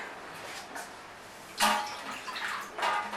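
Water is added carefully to a juicer jar holding soaked mash lentils for dahi baray batter, in two short splashy pours with bright hissing bursts over a quiet background.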